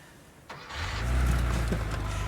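A Porsche engine turns over and catches after a key turn, a brief crank giving way to a low, steady rumble that swells and holds close by, with no talk over it.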